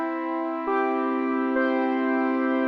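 A major chord rings out as a steady sustained tone, close and clear, with a slight shift in the voicing early on and no talking over it.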